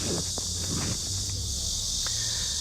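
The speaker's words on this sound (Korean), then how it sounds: "이 매미 소리가 들리시나요?" Midsummer cicadas hold a continuous, even high-pitched buzzing drone that never lets up, with a few faint soft thuds scattered underneath.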